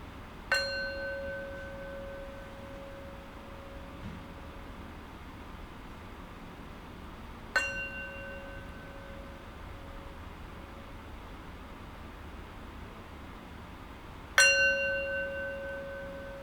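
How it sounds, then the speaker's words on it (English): A meditation bell struck three times at a slow, even pace, each strike ringing out clearly and decaying over several seconds against a faint hiss, with no talking. "So ring the bell 3 times."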